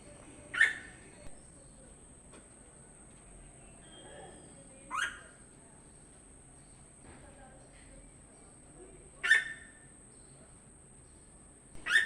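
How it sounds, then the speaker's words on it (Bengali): Birds call in a calm early-morning quiet outdoors, with four sharp, clear calls spaced several seconds apart over a soft, faint background hum. "এই সকাল সকাল সকাল পাখির ডাক"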